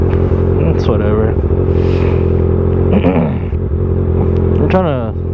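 A Kawasaki ZX6R sport bike engine drones steadily and loudly during a night ride, holding a constant hum under a rider talking throughout.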